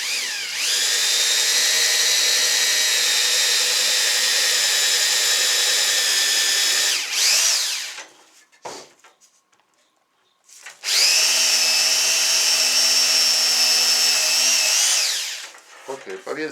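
Skil 6221 electric drill boring into wood while building a kitchen shelf: two long, loud whining bursts, each several seconds long, split by a short quiet gap with faint handling noises.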